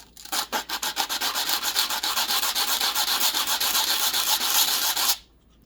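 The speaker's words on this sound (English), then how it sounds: "And then what we're going to do again is just give it a quick sand." Sanding a handmade silver ring formed from melted Irish pennies, giving a steady, close, rasping rub of abrasive strokes that run continuously for about five seconds and then stop abruptly.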